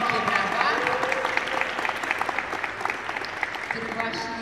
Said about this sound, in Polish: Gromkie brawa.